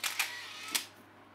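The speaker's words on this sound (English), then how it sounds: "we have the shutter button" Shutter button on a film camera, a few sharp, close mechanical clicks in quick succession, a pair right at the start and another shortly after, in otherwise quiet surroundings.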